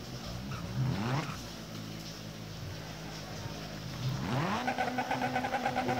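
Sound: old rally car engine in video game Dirt Rally

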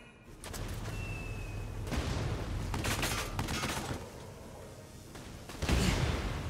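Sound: gunfire in the Valkyria Chronicles 4 video game

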